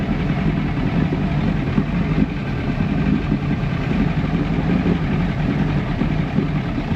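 A 1996 Force 120hp outboard motor, likely in need of carburetor work, runs steadily close by with a loud, continuous rough droning rumble and no pauses.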